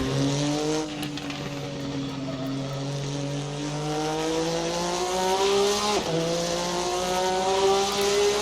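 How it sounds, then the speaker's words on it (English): A Porsche Group N-GT race car engine in a racing video game roars steadily, its pitch climbing through gears with a brief drop around a shift, loud and continuous with no voices. "Sounds great, feels like a Porsche, sounds like a Porsche, drives like a Porsche"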